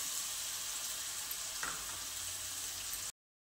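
Ground spinach, pea and potato vegetable paste sauteing on low gas, a faint, even hiss of gentle sizzling with a brief stir sound midway, ending abruptly.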